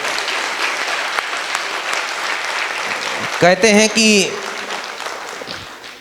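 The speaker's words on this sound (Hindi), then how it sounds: "पूरे सदन में ताली दोनों हाथ ऊंचे करके गुंजायमान होनी चाहिए।" Hall audience applause at a Jain ceremonial gathering, steady dense clapping that runs throughout, briefly overlaid by a loud amplified voice midway before the clapping thins toward the end.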